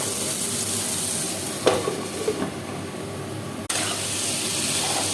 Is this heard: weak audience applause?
no